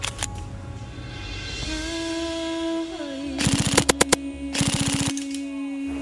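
An airsoft gun fires full auto on a bamboo forest field in Aichi, two short bursts of rapid mechanical clatter, fairly close, separated by a brief pause over a faint steady background tone.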